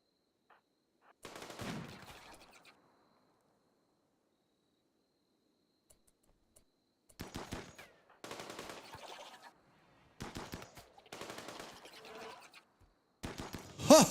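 Gunfire from a colony defense in RimWorld: several separate bursts of rapid small shots, fairly faint and sparse, spaced between long stretches of near silence.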